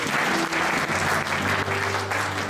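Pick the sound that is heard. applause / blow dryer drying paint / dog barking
applause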